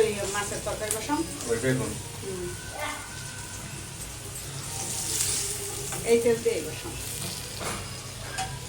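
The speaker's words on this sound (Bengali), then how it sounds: "এই যে মাছের জন্য পেঁয়াজ দেওয়া ওই গেছে তেলের মধ্যে" Onions sizzle and fry in hot oil in a pan while pangas fish and eggplant curry are being cooked, a steady crackling hiss with occasional stirring, mixed with voices talking nearby.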